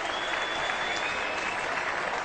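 Crowd at a cricket match cheering and applauding after a long hit toward the boundary, a steady dense roar of many voices and clapping sustained throughout without a break.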